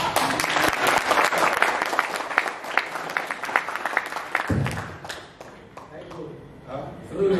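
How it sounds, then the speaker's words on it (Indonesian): An audience claps sharply for several seconds, then the applause thins out and a voice talks over its tail end. "Tepuk tangan dong."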